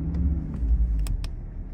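An Audi RS3 engine rumbles low and then rises briefly as throttle is applied, heard up close with a steady deep drone and a few short higher bursts, with no talking.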